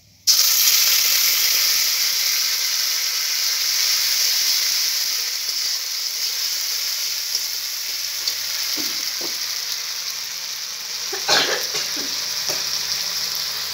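Ginger, green chili and cumin paste hits hot oil in a pan and sizzles loudly and steadily, a broad frying hiss that holds for the whole stretch with a few faint clinks of a utensil stirring near the end.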